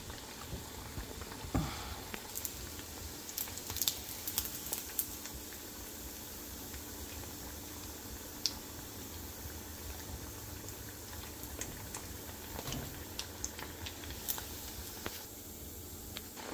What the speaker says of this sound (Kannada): ಥರ್ಡ್ ಬ್ಯಾಚ್ ಇವಾಗ ಫ್ರೈ ಮಾಡೋಕ್ಕೆ ಹಾಕಿದ್ದೀನಿ